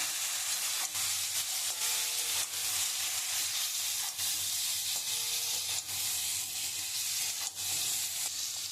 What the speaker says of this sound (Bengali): আমার মশলা দিয়ে কষানো হয়ে গেছে